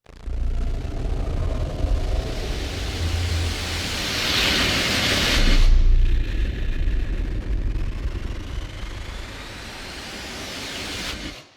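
Hybrid Tools sounds from 8Dio run through a degrader effect: a harsh, gritty roar of broadband noise that swells, cuts out sharply, then returns as a distorted rumbling wash with a rising whine, loud and continuous with no voices.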